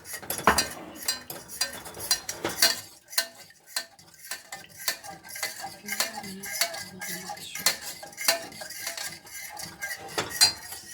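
A spoon stirs a thickening Sunlight Souffle mixture in a metal pot, scraping and clinking against the sides in an irregular rhythm, close up and fairly quiet, with no voices.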